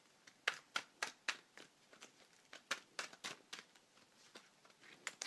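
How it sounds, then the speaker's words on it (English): A deck of trading cards is shuffled close up in quiet, crisp bursts of riffling and flicking, about a dozen sharp rustles spread unevenly over a few seconds, with no talk. "So, just quickly do another bit of shuffling."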